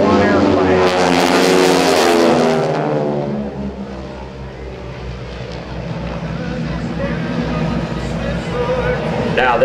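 Aerobatic team of propeller airplanes roaring loudly through a diamond formation loop at an air force base airshow, engine drone swelling and then fading slightly as they pass, with an announcer talking over it throughout.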